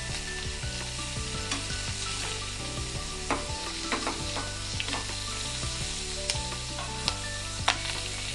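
Scaly fish frying in a pan with plenty of oil, a dense continuous sizzle and crackle close up, with occasional stirring or flipping sounds and sharp pops, no talking.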